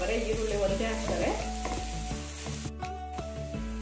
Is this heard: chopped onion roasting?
yes